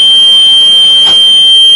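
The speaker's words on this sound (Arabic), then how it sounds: "المكنه بتديني انذار ان كده في اوفرلود حصل على البورده" Overload warning alarm from an Egyptian-made 2024 BGA rework machine, a steady, loud high-pitched electronic tone sounding continuously, with a brief click or thump partway through.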